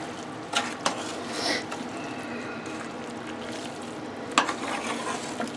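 Louisiana Creole-style jambalaya being stirred in a pot after simmering until the rice has absorbed most of the liquid, soft wet scraping and bubbling with a couple of sharper spoon knocks, close and fairly quiet.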